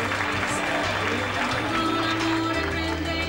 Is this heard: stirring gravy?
no